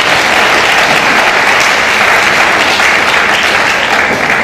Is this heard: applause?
yes